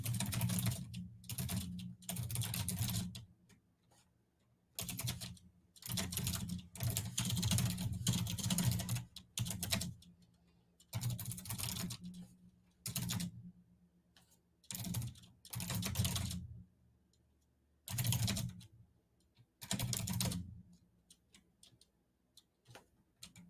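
Typing on a computer keyboard while writing: quick irregular bursts of soft key clicks with brief pauses between them, close and fairly quiet, no voices.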